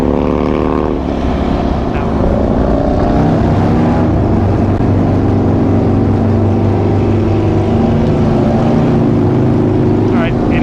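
A motorcycle engine revving on a touring ride along the Back of the Dragon road in Virginia, a loud steady droning roar with sustained tonal hum and a pitch shift early on, close and continuous.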